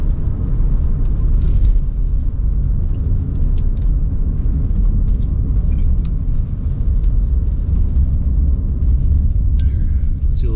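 2021 Mazda CX-9 Touring SUV pulling away from a dead stop, a steady loud low engine and road rumble from inside the cabin with no clear rise in pitch.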